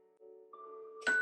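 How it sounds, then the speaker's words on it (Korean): A doorbell sound effect chimes with sustained, ringing tones that step upward, followed by a sharper bright strike near the end, clean and isolated against silence. "누가 초인종을 누릅니다"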